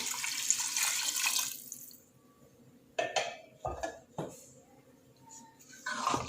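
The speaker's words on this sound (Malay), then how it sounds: "Sekarang saya akan tuangkan 2 cawan air ke dalam periuk pressure cooker." Two cups of water poured into a pressure cooker pot, a splashing rush at first, then quiet gaps broken by a few sharp clunks and knocks of the pot and cup.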